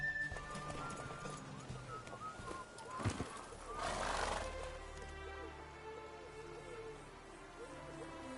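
Roach, the horse in The Witcher 3, clip-clops and whinnies as it slows after a race, with hoofbeats under in-game voices and ambient game sound, a brief snort or neigh rising midway.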